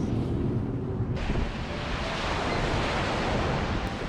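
Strong wind buffeting across a closed Toronto beach with waves rolling onto the shore, a loud continuous roar of gusts and surf, the wash swelling as the wind hits the microphone, no voices.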